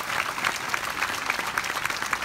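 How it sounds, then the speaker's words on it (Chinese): Audience applause at a Suntec event in Singapore, a dense, steady wash of many hands clapping that runs loud and continuous for the whole stretch, with no voices over it. "应该掌声给 VV。"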